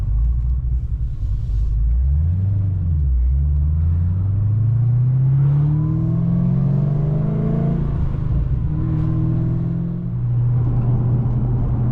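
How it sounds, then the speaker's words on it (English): 2014 HSV VF GTS with 720 rear-wheel horsepower driving, a loud, continuous interior engine rumble rising and falling through gear changes as it accelerates, no talk over it. "So that was your point of view drive in my 720 rear wheel horsepower 2014 HSV VF GTS"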